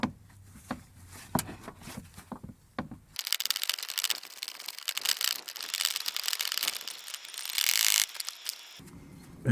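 A ratchet wrench clicks rapidly as it undoes an anti-roll bar mount bolt on a Mk1 Skoda Fabia 1.9 PD, with a few sharp taps first, then a long, close run of fast ratcheting bursts.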